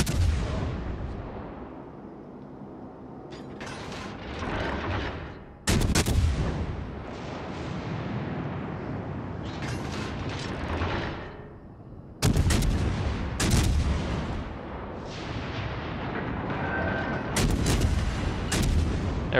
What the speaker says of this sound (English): it allows me to just keep the high explosive load and to keep the guns firing